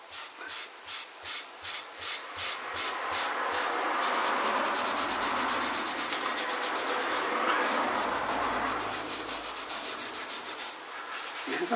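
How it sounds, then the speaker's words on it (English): Sandpaper rubs back and forth over a stained flamed maple veneer guitar body, steady rhythmic scraping strokes close up, quickening into a continuous dense rasp before slowing again, with no talking. "Different people use different grits of sandpaper for rubbing this down"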